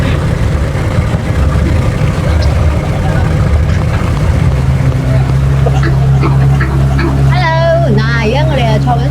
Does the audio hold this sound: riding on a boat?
yes